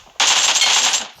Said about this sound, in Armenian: Հեսա հենց նույն ստեղը կրակոցներ են